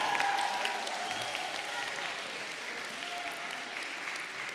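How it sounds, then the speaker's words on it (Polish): Children applaud a parish priest during a Lenten retreat in a church, a sustained, fairly loud round of clapping that holds steady for several seconds before tapering slightly. "Może jeszcze raz dla księdza proboszcza brawa"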